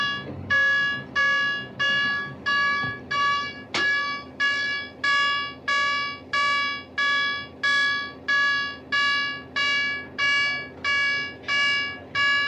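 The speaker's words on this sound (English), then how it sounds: "Sound the general alarm." A submarine general alarm sounds in a steady series of about sixteen loud, evenly spaced electronic buzzing tones, each a harmonic-rich blast of roughly half a second separated by short gaps, with faint background noise beneath.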